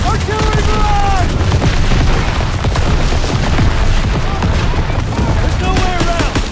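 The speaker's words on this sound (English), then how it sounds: "Artillery barrage!" Artillery barrage in a Call of Duty battle on Hill 493, a dense continuous roar of booms and gunfire with shouted voices over the top throughout.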